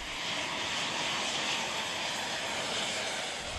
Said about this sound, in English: Each flyboard is equipped with four 250 horsepower turbo engines, fueled by kerosene carried in a tank strapped to the rider's back.